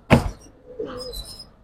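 Silver and army khaki pigeons in a pigeon collection give a short call, a sharp initial note followed by a softer coo, close and clear.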